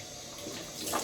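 Hot water runs steadily from a bathroom tap during a wet shave with a Parker 99R safety razor, a soft continuous splash and hiss that swells slightly toward the end, with no talking.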